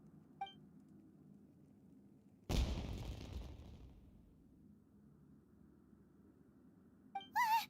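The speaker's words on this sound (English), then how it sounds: "Was that an explosion? It sounded like fireworks." A single firework bursting in the game Genshin Impact, a sudden loud boom followed by a crackling tail that fades over about two seconds, framed by short game beeps.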